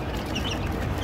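Caged chickens get excited at feeding time, making loud, close, busy clucking and calls over a dense, noisy farmyard background for about a second.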